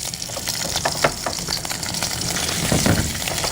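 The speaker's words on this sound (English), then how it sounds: "we're going to start by searing our scallops, and searing has to be done with a really hot pan" Scallops searing in a very hot, smoking oiled pan make a steady, close sizzle and crackle that runs throughout, with a few brief spatters standing out.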